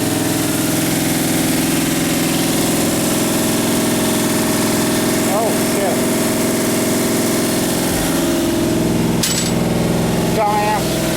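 A 327 V8 engine idles at a steady, loud, throbbing drone with a faint lope. A couple of short voice fragments and light clicks sit over it.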